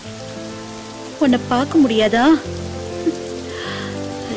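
Steady rain falls throughout, an even, close hiss of drops on surfaces, while someone speaks briefly over it in the middle.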